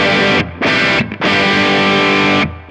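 Electric guitar through a Kemper Profiling Amp, drive fully down and tone at 5, strikes three loud sustained chords with short gaps, the last ringing longest before cutting off; no one speaks.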